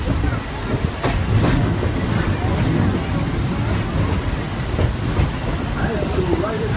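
The Walt Disney World Railroad train at Magic Kingdom rolls along its tracks with a loud, steady rumble, hiss and rhythmic clatter close by, while a voice talks over it.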